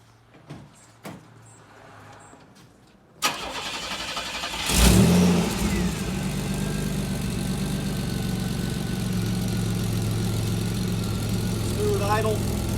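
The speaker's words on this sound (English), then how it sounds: "Smooth idle, no problems whatsoever. Snappy throttle response, it's right where you want it." GM 2.8 MPFI engine starting, then a quick rev that settles into a smooth, steady idle close by, with a faint squeal near the end and a quiet voice beforehand.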